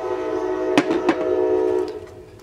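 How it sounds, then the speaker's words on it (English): A train comes through nearby, a steady rumbling drone with two loud horn-like blasts early on, then fading as it passes. "We have a train coming through while I'm making a video,"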